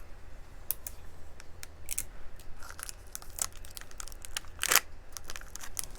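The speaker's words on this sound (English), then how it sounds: "I'm going to smooth this around and tape it down" Sublimation paper being smoothed and taped down around a baby bib or onesie: repeated crisp paper crinkles and sharp tape snaps, close up and fairly quiet, with no talking.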